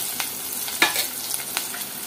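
Onions sizzle steadily in a pan for a couple of seconds, with a few brisk stirring scrapes cutting through the hiss; no talking.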